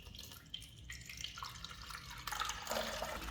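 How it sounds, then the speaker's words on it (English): Tap water runs steadily into the water tank of a TICWELL Whale W1 cordless wet dry vacuum cleaner, a continuous splashing pour that grows slightly louder and fuller as the tank fills, with no talking. "fill the tank with tap water to max line"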